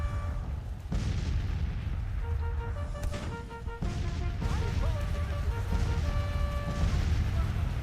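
Artillery fire in the Civil War strategy game Grand Tactician: The Civil War: heavy booms at irregular intervals over a steady bed of orchestral music, punching through loudly several times.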